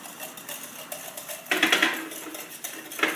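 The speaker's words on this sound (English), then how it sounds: "And just whisk that in" Whisk clattering briskly against a bowl while melting chocolate flake is beaten into cream for a chocolate Jaffa cake pudding, a light rhythmic metallic scraping that grows louder and busier halfway through.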